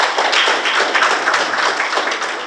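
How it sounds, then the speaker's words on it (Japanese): Applause from the audience at the close of a government negotiation meeting, a dense, continuous patter of many hands clapping for a couple of seconds, close and fairly loud. "ちょっと拍手をお願いいたします。"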